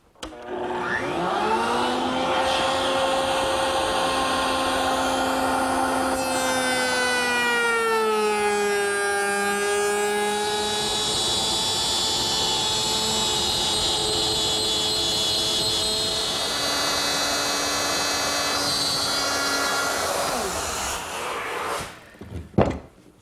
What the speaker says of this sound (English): I've just routed a 3/8 inch wide, 1/4 inch deep groove on the underside of the top